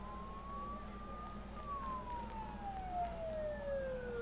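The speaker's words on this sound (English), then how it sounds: "Don't those sirens sound really close?" Sirens wail through thick fog in the Persona 4 Golden video game, a faint, distant rising-and-falling tone drifting over a low ambient hum, heard alone.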